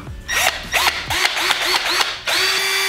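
Power drill boring holes in wood for a plant dryer build, several short whirring bursts rising and stopping in quick succession, close and loud, with no talking.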